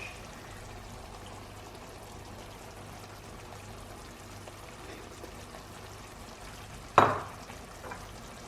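Fresh tomatoes and spices land in a frying pan of lamb kheema with a sudden wet splash and sizzle, rising sharply from a quiet low background hiss and then fading over about a second.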